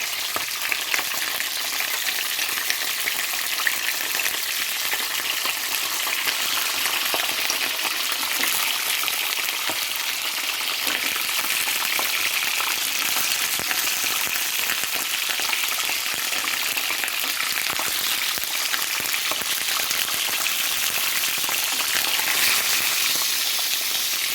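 Steady, dense sizzling of stuffing peppers frying in hot oil, a continuous crackling hiss with no talking.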